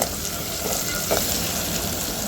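Tempering with coriander leaves sautéing for Khandeshi masala dal khichdi, a continuous close sizzle with brief stirring scrapes against the pan.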